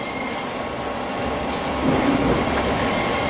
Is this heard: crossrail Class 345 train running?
yes